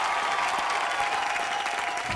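Studio audience applause on a Colors TV entertainment show, dense and steady throughout without a break, loud and close, with no voices over it.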